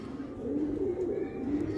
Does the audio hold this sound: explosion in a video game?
no